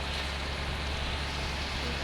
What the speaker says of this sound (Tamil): ஒரு மழை பெய்யுது.